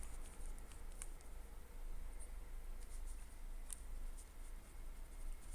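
Pen or pencil writing on paper while a math problem is worked out, faint close scratchy strokes in a soft continuous patter with a few small taps, no talking over it.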